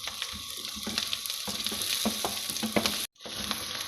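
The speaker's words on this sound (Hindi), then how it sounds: "इसको हम हल्का सा जो है वो भून लेंगे, ज़्यादा नहीं, बिल्कुल हल्का सा" Onion, garlic and ginger fry lightly in a pan for a restaurant-style butter chicken base, a steady close sizzle with soft stirring scrapes, cut off by a brief silence near the end before resuming.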